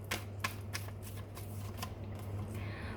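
Tarot cards being shuffled, a soft rapid riffling and flapping of cards close up, repeated in short bursts over a steady low hum.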